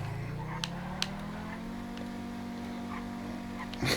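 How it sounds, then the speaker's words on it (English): The Pegassi Osiris supercar in GTA 5 holds a steady droning engine note that rises slightly and then sustains, moderately loud, with a few faint clicks and a brief bump at the end. "I love the engine sound. I mean, it's just roaring."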